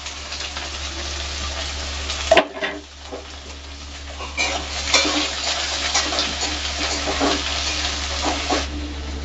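Sliced onions dropped into hot oil with bay leaves and whole garam masala, a sharp hiss at the drop, then steady frying sizzle with occasional stirring scrapes.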